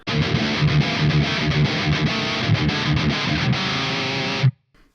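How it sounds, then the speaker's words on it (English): Heavily distorted high-gain electric guitar riffing at the top gain setting, dense and loud with sustained chords and choppy rhythmic notes, ending abruptly in silence. "that's just glorious distortion"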